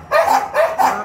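A dog whines and yelps in three short, rising bursts, close by and fairly loud, with brief pauses between each cry.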